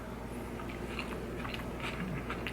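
Close, wet chewing and biting on a mouthful of tomato and egg over rice, a steady run of soft crunchy mastication sounds with no talking.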